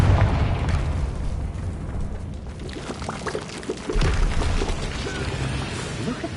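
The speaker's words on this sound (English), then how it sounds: "Another barrier. We can blast through it, I'm certain." A Confringo blast spell in Hogwarts Legacy bursts against a barrier, producing a broad, rumbling crackle of debris that swells briefly midway and then keeps up a steady, noisy roar.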